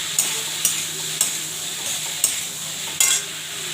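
Spices with salt and turmeric sizzle in a hot pan while a spoon scrapes through them in about five regular, distinct strokes over a steady crackle.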